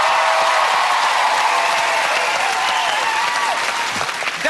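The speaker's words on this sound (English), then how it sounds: "can we have a huge round of applause for David Walliams?" A large studio audience breaks into loud, sustained applause for comedian David Walliams on a television show, a thick continuous wash of clapping that tapers slightly at the end.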